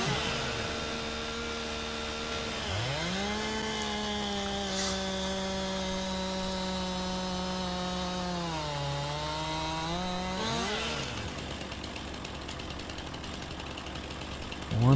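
In a video game, a chainsaw engine drones steadily as it cuts into a log. Its pitch dips and then rises again as it bites into the wood, and the sound runs for the whole span at steady loudness.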